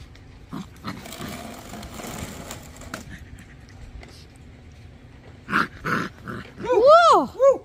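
Six-week-old puppies play-fighting near a gate, with soft growls and scuffling giving way to louder yips and whining cries toward the end, close by.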